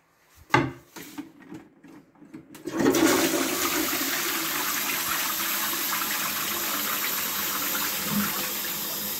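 A Geberit wall-hung toilet is flushed after a few clicks and knocks at the flush plate, followed by a loud sustained rush of water that continues steadily to the end.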